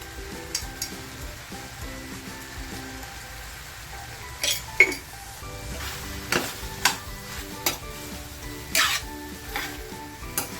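Mutton pepper fry sizzles quietly in a pan, with a steady low frying hiss broken by a few sharper scraping and stirring knocks, heard close up with no talking.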